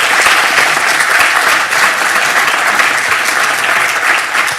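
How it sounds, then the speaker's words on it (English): Loud, steady applause from a crowd at an accounting alumni conference, continuous clapping filling the whole stretch without pause. "Please give a warm round of applause to Alan Flanagan."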